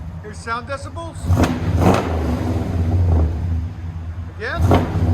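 Cammed 350 V8 in a 1966 Chevy Impala with true dual Borla Pro XS exhaust, revving in loud deep bursts with a rumbling idle between, while people talk over it.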